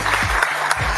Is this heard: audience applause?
yes